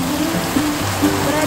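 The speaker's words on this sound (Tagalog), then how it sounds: "Ang lakas ng ulan guys." Heavy rain pouring down in a dense, steady hiss, with faint tonal hum beneath.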